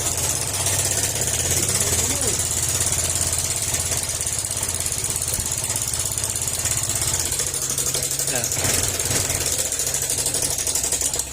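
A motorcycle engine with a knocking fault runs steadily close by with a rough, rhythmic knocking clatter throughout, loud and continuous without pause.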